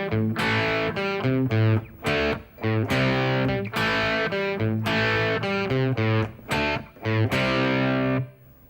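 A heavily distorted electric guitar chugs through a choppy rhythm riff, with short palm-muted bursts and brief gaps, ending on a ringing chord.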